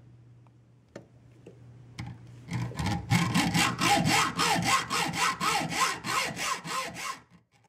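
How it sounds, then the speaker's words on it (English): A hacksaw fitted with a Lenox bimetal blade, oiled, saws through a Pocketwrench 2 in steady back-and-forth strokes, about a dozen rasping passes after a few light taps, close and loud. "Be using a hacksaw, the Lennox bimetal blade that I just bought recently"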